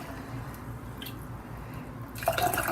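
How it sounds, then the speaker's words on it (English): Water poured from a kettle or pitcher into glass jars of dry black beans for canning: a soft, steady trickle and gentle drips close by, ending in a brighter splashing pour. "I'll just keep adding the water"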